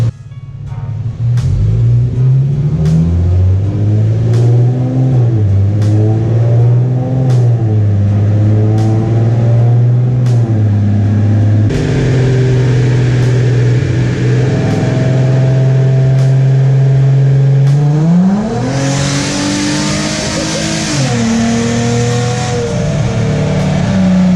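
A Nissan G35 with a rear-mount MaXpeedingrods turbo, running on E85, revs hard on a dyno. The loud engine drones and climbs in pitch through stepped pulls, with sharp rhythmic clicks throughout.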